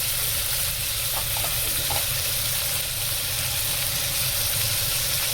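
Fish fries in a pan with a loud, dense, steady sizzling hiss that holds without a break, close and constant throughout.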